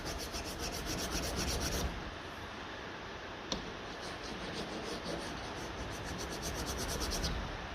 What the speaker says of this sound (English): Finish it with a bit of sandpaper.